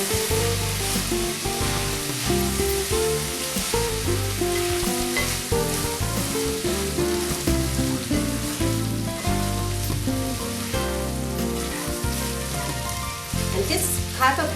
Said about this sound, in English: keep stirring your rice and fry it until the grains start to separate